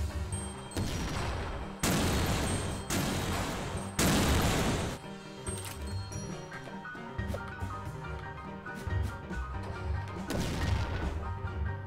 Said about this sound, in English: Set a bomb, press A, and it was an explosion